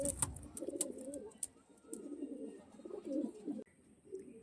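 Several pigeons at a bird seller's loft coo in low, repeated throaty phrases that rise and fall across the stretch, with a few sharper chirps at the start and light background noise.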